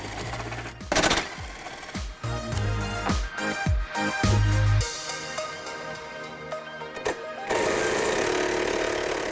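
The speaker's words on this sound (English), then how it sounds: "Use a 10mm socket to get these removed." A 10mm socket wrench works bolts loose on a Jeep Wrangler, giving bursts of rapid ratcheting clicks and clattery mechanical rattles, close up, with a steady whirring stretch near the end.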